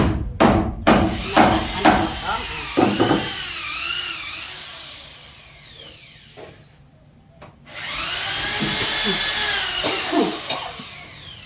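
Rhythmic sawing strokes on wood, close by, repeating in bursts with short pauses, mixed with knocking tool sounds.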